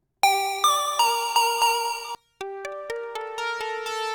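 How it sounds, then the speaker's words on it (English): Sylenth software synthesizer playing a plucky patch with short sustain and medium decay, a clean series of bright plucked notes, each attack fading quickly, alone and moderately loud. "if I pulled up a kind of a plucky sound here, I'm gonna have a pretty short sustain and a medium length decay"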